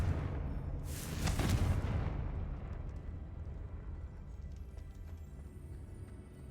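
The Confringo blasting spell in the Hogwarts Legacy video game sets off one close, loud explosion, a burst that rises and peaks, then rumbles off into a long, fading low tail, with no voices.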